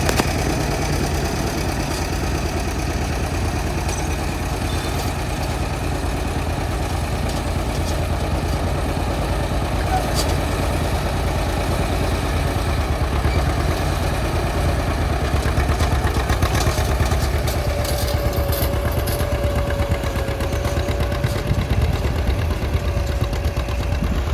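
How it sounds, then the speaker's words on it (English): A John Deere 60 tractor pulls a John Deere Model 44 plow at a national plowing contest in Arlington, South Dakota, its engine a close, steady, unbroken drone with no talk over it. "Also from South Dakota is Ryan Olson, plowing with his 60 John Deere, pulling a John Deere Model 44 plow"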